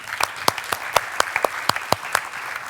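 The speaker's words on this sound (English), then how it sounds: "Please give her a warm round of applause." An audience at a conference session claps for the next presenter, a sparse, steady rhythm of distinct handclaps that sounds like only a few people, at moderate volume.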